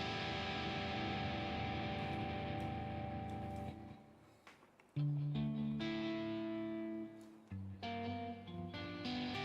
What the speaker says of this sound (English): Let's add delay to this. Let's add reverb to the slapback.